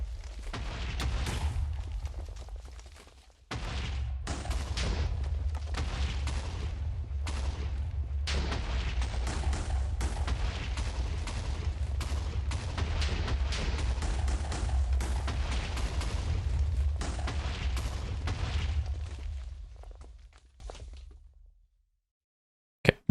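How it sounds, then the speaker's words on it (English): Mycelial reactor explosion effects in the Minecraft modpack All The Mods 10 form a dense, continuous barrage of rumbling booms and crackling blasts. The barrage runs for nearly twenty seconds, fades and then cuts to silence. "We're going to stop the explosion effect."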